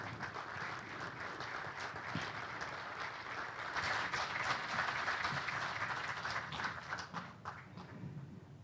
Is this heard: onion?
no